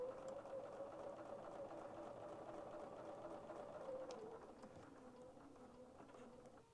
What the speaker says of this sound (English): now we're ready to go to the sewing machine